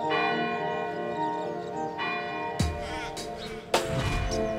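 Church bells ring out in a quiet country town in western New South Wales, with sustained overlapping tones and a couple of sharp fresh strikes that bloom and linger.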